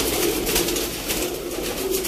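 A rare Sialkoti breed pigeon coos in a loft, soft repeated throaty calls rising over a constant rough background noise, close by and without talk.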